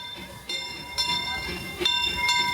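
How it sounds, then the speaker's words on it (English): A Disneyland steam train passes during the park's 70th anniversary celebration, its steady rumbling clatter joined by bell-like tones and crowd noise, close and continuous with louder surges. "there's the train."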